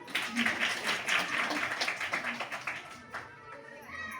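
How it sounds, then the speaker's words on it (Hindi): Children clap together in a steady, lively patter that runs for a few seconds and then thins out near the end, with some faint voices mixed in underneath. "बच्चों बजाओ ताली।"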